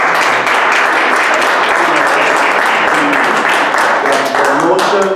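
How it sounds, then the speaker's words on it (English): Loud, continuous applause from an audience at an awards gathering, a thick roar of many hands clapping, steady from start to end with a few sharper individual claps near the close. "let's give applause to Sandra for all this hard work"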